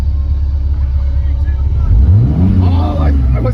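Ultra4 off-road race car, electric, accelerating hard: a rising rumble and whine builds from the middle of the run, loud and close, with people talking over it throughout.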